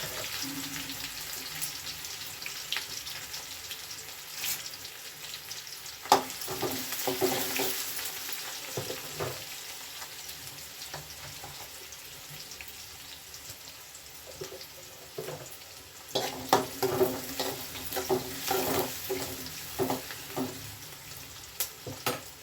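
Dry chili, curry leaves and cumin fry in hot oil for tempering, making a soft, continuous sizzle with louder crackling bursts near the middle and end, heard close up.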